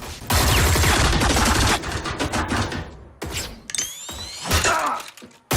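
Rapid automatic gunfire and shattering impacts from a firefight in a science-fiction TV series, loud dense bursts at first, then separate sharp shots and ricochets.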